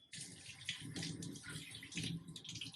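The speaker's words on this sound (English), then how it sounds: "When you're done, you can rinse them." Tap water runs steadily into a sink while hands are rinsed after scrubbing, a close hissing splashing stream with slight fluctuations, fairly quiet and with no voices.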